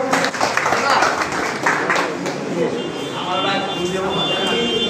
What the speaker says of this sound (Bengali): হাজী মোহাম্মদ মনির ভাই জন্য একটা করতালি হোক